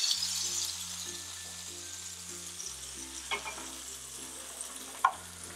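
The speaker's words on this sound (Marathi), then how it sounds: "ही फोडणी आता आपण इथं चटणीवर घालायची" Hot tempering oil with curry leaves and asafoetida is poured over chutney, giving a steady, close sizzle with scattered crackles. A low tonal hum runs underneath.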